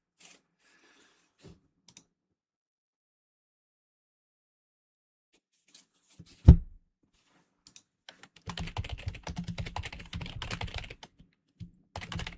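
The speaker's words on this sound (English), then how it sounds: "my mechanical keyboard is bananas" A mechanical keyboard clatters in a fast, loud burst of keystrokes after a few scattered taps and one sharp knock, then trails off into isolated clicks in a quiet room.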